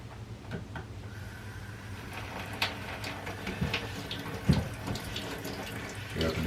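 Water runs steadily from a faucet during a skillet cleanup, a continuous hiss broken by a few clinks and knocks at close range, with a louder thump partway through.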